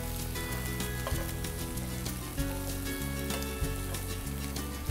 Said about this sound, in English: You can see it's really nice grilling shrimp there.